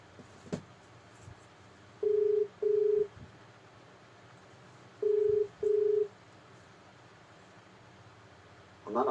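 Telephone keypad dialing a call: four short, evenly pitched tones in two pairs, then a brief louder burst at the end, over low hissing background noise.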